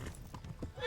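Horse hooves clip-clop in the medieval video game Kingdom Come: Deliverance, a brief run of quick, muffled steps at moderate level.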